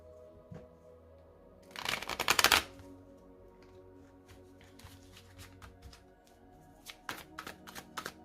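A deck of tarot cards is cut by hand: one short, crisp rustling burst of cards, followed by scattered faint taps and card handling in a quiet room.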